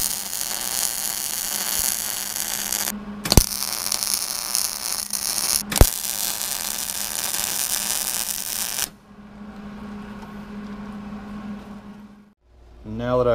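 A welder tack-welds steel side plates to a base plate, giving loud crackling buzz for several seconds, broken by two sharp pops, then a quieter hum.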